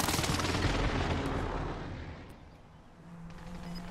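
Gunfire and heavy blasts roar in a first-person shooter video game, a loud dense rumble of shots that fades slightly midway before swelling again.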